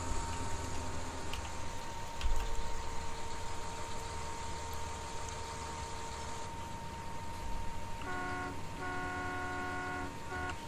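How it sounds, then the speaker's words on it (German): A vehicle honks a funny-sounding horn in a few short, stuttering toots near the end, over a steady engine idle and road noise. "Hat aber eine lustige Hupe, der Teil."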